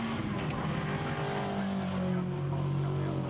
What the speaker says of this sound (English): That's the car in the hands of Lloyd Clarkson, powering his way now down towards Bobbitt